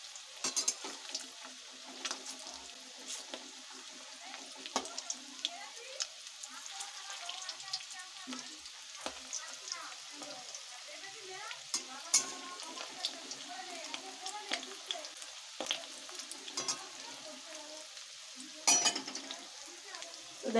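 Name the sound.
fish balls frying in oil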